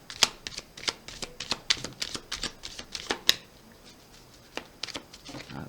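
Tarot cards shuffle and flick in quick, crisp bursts of sharp riffling snaps, close up and fairly quiet, followed by a few sparser card taps and slides.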